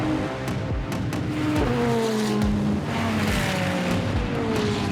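Ferrari race cars in a Ferrari Challenge Australasia race accelerate into turn 1, a loud, continuous layered engine roar with rising and falling tones as several cars pass close by.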